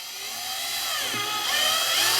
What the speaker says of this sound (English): So I take the coupler in my hand and I just drill out those two holes.